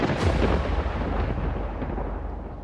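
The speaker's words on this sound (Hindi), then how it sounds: "इतनी देर में जोर से बिजली कड़की" A loud thunderclap on a rainy day under dark clouds in a horror story: a sharp crack opens into a heavy, deep rumble that rolls on and slowly fades across a few seconds.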